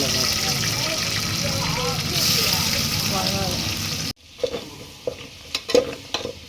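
Onions sauté in oil with whole spices and green chilies for paneer biryani, a dense sizzle that abruptly drops to a quieter stretch of clinking stirs and scrapes.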